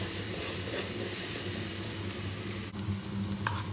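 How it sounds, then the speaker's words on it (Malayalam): Onion, ginger garlic paste, green chillies and tomatoes sauté in hot oil for a Kerala lunch, a steady loud sizzle and frying hiss with stirring scrapes, close and continuous, no voices. "2-3 പച്ചമുളക്, ഇതെല്ലാം കൂടി നല്ലോണം വഴറ്റിയെടുക്കാം."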